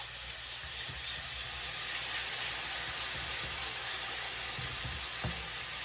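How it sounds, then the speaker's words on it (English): Water goes a little at a time into hot enchilada sauce on the stove, bringing a loud, steady sizzle and frying hiss with occasional stirring clinks. "And you add your water a little bit at a time."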